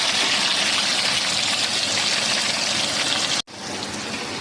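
Chopped tomatoes cook in hot oil in a home kitchen, giving a steady, dense sizzle that continues loudly, then breaks off abruptly for a moment before carrying on.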